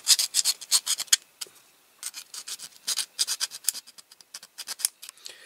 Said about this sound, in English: I'll have to file this front one a bit more